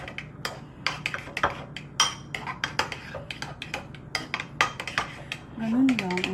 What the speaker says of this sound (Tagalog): Hahaluin ko na siya.